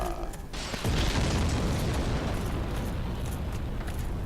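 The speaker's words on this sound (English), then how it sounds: "there's a giant tossing big-ass bombs at us from above" Huge booming explosion from bombs hurled down by a giant in the game Dark Souls, hitting with a sudden blast and then rolling on as a loud, sustained rumble with crackling debris.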